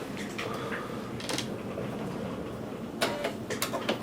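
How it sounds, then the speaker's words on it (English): A sewing machine runs a quarter-inch seam with quiet mechanical whirring and clicking, brief louder bursts of stitching near the start and again toward the end. "I'm going to go to the sewing machine and just sew the 1/4 inch for you."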